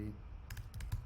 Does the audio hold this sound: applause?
no